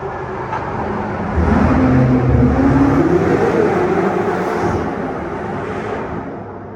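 BMW M8 Competition with an Akrapovic exhaust, tuned past 800 hp, revving inside a tunnel, a loud steady engine roar that swells after a second, holds, then slowly eases off with echoing resonance, no talk over it.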